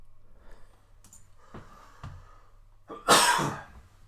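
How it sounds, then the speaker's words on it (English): A single person's cough, preceded by a couple of faint throat sounds and breaths, ending in one loud, sharp, close cough burst. "I just cough everywhere all day."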